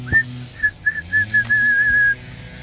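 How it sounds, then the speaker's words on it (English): A thin, high white-crowned sparrow song of whistled notes, a few short tones followed by a longer trill, clear against quiet outdoor background. "you can hear the white-crowned sparrow in the background"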